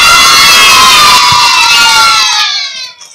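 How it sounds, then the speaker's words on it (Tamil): A crowd of children cheers and shouts during a Vacation Bible School competition. The noise is loud and sustained, then fades out near the end. "எல்லாரும் கரகோஷங்களை எழுப்புங்கள்."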